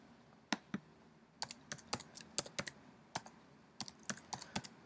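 Typing on a computer keyboard: quiet, close key clicks in irregular short runs and single taps, sparse and crisp in a quiet room.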